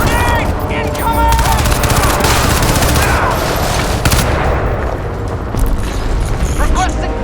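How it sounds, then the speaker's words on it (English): Grenade blast and sustained gunfire in the video game Crysis 2 Remastered, loud and continuous bursts of shots and booms filling the whole stretch, with combat voices calling out over the din. "Grenade! Incoming!"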